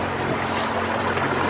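A boat motor runs steadily on the way back across the water near Ibiza, producing a loud, constant broadband roar with no talk over it.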